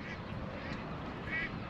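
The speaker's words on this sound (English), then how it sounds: "Look at them birds." Duck-like quacking calls from birds at Port Clinton Lighthouse, East Harbor State Park, over a steady wash of outdoor background noise.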